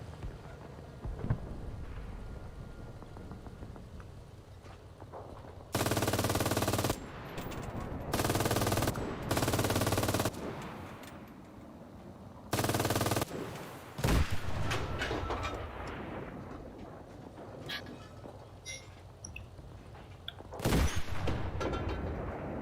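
Gunfire in a shooter video game: several loud bursts of rapid automatic fire, each lasting a second or two, with single sharper shots scattered between them over a low background rumble.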